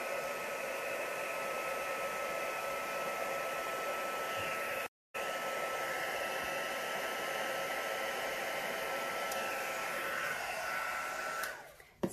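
An embossing heat tool blows steadily over black and silver resin on geode coasters, a continuous close airy roar like a hair dryer with a brief cut-out midway, then fading at the end.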